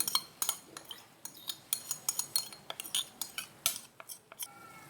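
Beaten eggs stirred in a Teflon pan, with a rapid run of sharp utensil scrapes and clinks against the pan, close and fairly steady over several seconds, no voices.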